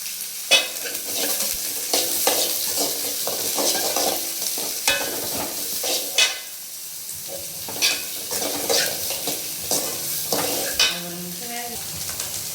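Beans stir-frying for street-style chicken fried rice sizzle steadily in a hot pan, with a spatula scraping and clattering against the metal at irregular intervals.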